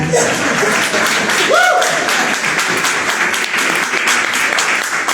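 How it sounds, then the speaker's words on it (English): Audience applause for a strong mayor at a Miami-Dade public meeting, a dense steady round of clapping that holds for the whole stretch, with a brief voice rising over it midway. "Round of applause for our strong mayor, please."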